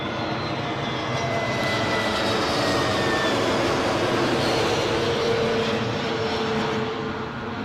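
An Aer Lingus airliner at London Heathrow airport gives a loud, continuous jet engine roar that stays steady for several seconds with no talking.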